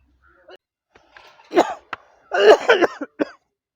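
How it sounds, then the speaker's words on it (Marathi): A man coughs up close in a few harsh, uneven bursts from chewing gutka, the last one short, with quiet gaps between them. "अरे खोकला लागले रे"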